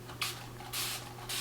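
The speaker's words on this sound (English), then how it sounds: "spray bottle of water" A spray bottle of water misting damp pixie-cut hair, three soft hissing bursts, close and steady over a low background hum.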